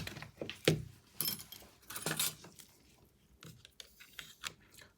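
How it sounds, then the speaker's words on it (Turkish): A few close plastic clicks, scrapes and rattles as the battery is pried out of an LG G4 Stylus phone, in short irregular bursts. "Bataryasını çıkartıyoruz."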